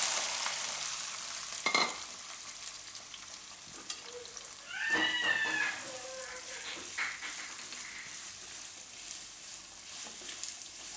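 Curry leaves and chunks of elephant foot yam hit hot oil in a pan, a steady close sizzle swelling into a louder crackling burst midway and then settling back to an even fry.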